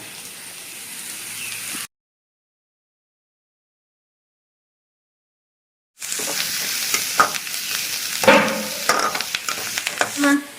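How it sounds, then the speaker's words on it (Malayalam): Onions and green chillies sautéing in a pan with curry leaves and turmeric, a close crackling sizzle with stirring scrapes, broken by a stretch of complete silence before the frying resumes louder. "സവാളയും മിളകൊക്കെ നന്നായിട്ട് പച്ചമുളകൊക്കെ നന്നായിട്ട് ഒന്ന് വഴണ്ട് വന്നിട്ടുണ്ട്"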